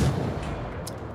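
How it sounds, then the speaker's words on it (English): Light cruiser main guns firing a salvo in World of Warships, a heavy low rumbling boom that rolls on and slowly fades. "My last salvo, I believe, will hit the island."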